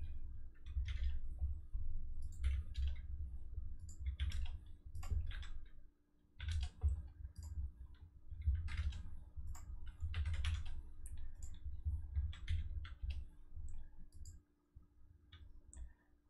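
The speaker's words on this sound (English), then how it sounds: "I just randomly hit keys." Keys on a computer keyboard struck at random by someone who cannot see them, giving irregular bursts of clacking keystrokes with short pauses, close and fairly loud over a steady low hum.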